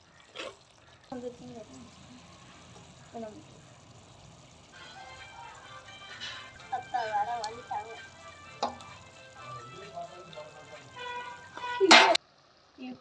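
Eggs are added to a thick egg thokku gravy, sizzling and frying in the pan as they are stirred in. The sound is moderate and builds in bursts, with a brief loud clatter near the end.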